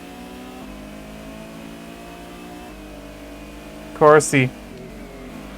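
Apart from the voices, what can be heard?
race cars accelerating in Gran Turismo video game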